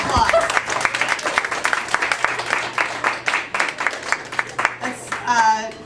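Audience applause for a high school one-act play cast and crew, a dense run of steady clapping over several seconds, fading near the end as a voice begins speaking.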